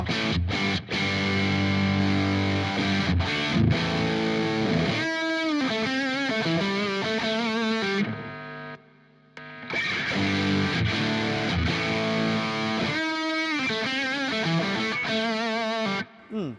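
Distorted electric guitar through a ProCo RAT pedal and Marshall-style amp, crunchy tone playing chords and quick riffs, loud and close, with a brief pause midway before resuming.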